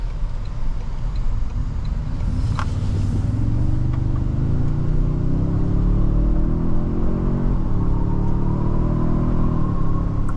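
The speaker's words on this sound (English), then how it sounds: "It sounds a lot like a V8 just because it has like that rumbly, like rumble" A loud V6 engine of a 2024 Toyota Sequoia TRD Pro SUV rumbles deeply as it accelerates, its pitch climbing steadily, then dipping briefly at a gear change before rising again.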